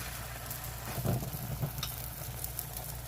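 Roti basted with olive oil and ghee sizzles faintly in a pan, a soft steady frying hiss with a slightly louder burst of crackle near the middle.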